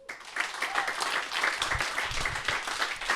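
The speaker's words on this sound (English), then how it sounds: "So please do give a big round of applause for Luke Boase." An audience at a business talk about an alcohol-free beer brand claps warmly, a moderate, steady patter of many hands that builds after a brief quiet start and continues evenly.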